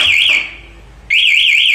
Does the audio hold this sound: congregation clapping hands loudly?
no